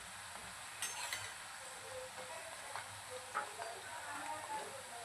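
Dahi vada batter fries in hot oil with a faint, continuous sizzle and small crackling pops close by, with no voices.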